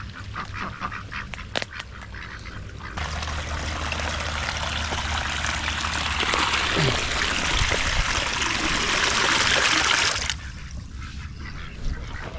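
Water pours and rushes steadily along a dug channel toward fruit trees, a loud continuous broadband flow rising after a few seconds and cutting off near the end.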